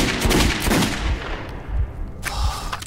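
Bursts of gunfire ring out in the video game Metro 2033 Redux, heavy rapid shots crowding the first half before a brief lull and a final sharp volley, all loud and close.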